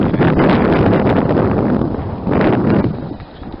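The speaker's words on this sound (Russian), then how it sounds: "Ветер поднимается." Strong, gusty northeasterly wind outdoors roars and buffets the microphone, surging loudly at the start and again midway before easing off.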